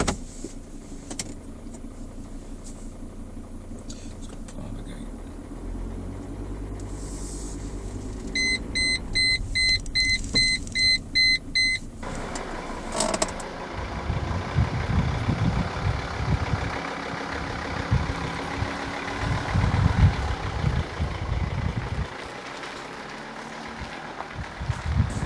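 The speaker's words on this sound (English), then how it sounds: "But let's take this car for a drive," A Mercedes C270 CDI diesel car pulling away and driving, its engine and road rumble steady and fairly loud, after a run of electronic beeps and a power window whirring near the start.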